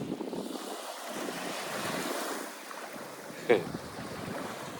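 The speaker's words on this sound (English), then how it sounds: "So here's Mama Lou going to dip and wash away all the sand." Sea waves and surf wash steadily onshore with wind buffeting the microphone, as a woman dips into the water to rinse off sand; a single brief splash stands out near the end.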